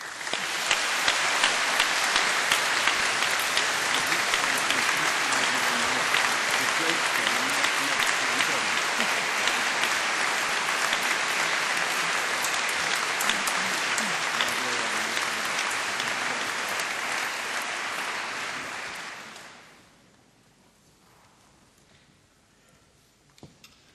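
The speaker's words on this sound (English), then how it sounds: "giving them all a big round of applause" A graduation audience at Cardiff University gives a long, loud round of applause, dense steady clapping for about nineteen seconds before it fades out quickly, leaving near silence with a few faint clicks.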